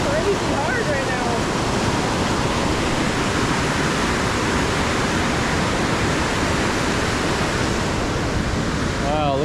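Mill B Fork creek rushes hard near Hidden Falls, a loud, broadband roar of fast water close by that holds steady throughout, with a brief voice near the start and end.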